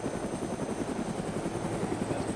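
A helicopter in the video game DayZ holds a steady rotor thump with a turbine whine under it, loud and continuous, with no talk over it.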